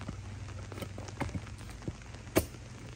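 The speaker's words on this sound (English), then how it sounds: "So it's raining. It's not totally pouring, but it's a good little steady drizzle." A steady light drizzle falls outdoors during a rotted fence post replacement, a soft continuous hiss broken by scattered faint taps and drips.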